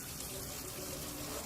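Water runs steadily from a faucet into a sink during a bucket-filling and washing routine, a soft continuous gushing hiss with no pauses.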